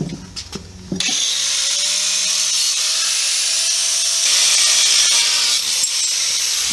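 A power tool cuts through an S10 truck frame, starting after a brief clatter and then holding a loud, continuous, harsh high-pitched whine close by for several seconds, with a slight rise in intensity near the end and no talking.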